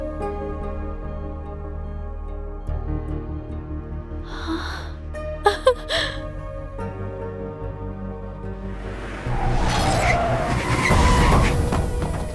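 A car arriving with its tires skidding, engine noise building before two sharp squeals, then a louder rush of the car pulling up close at the end.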